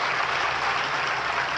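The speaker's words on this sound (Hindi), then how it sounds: "बहुत अच्छी ताली बजाई" Applause from the audience at a Ram Katha discourse in Ujjain, a dense, steady wash of many hands clapping at once, loud and even throughout with no voices over it.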